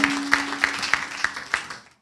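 At a tourism and creative-economy conference, a few people clap in a slow, even rhythm of about seven distinct claps over a low steady hum, trailing off at the end.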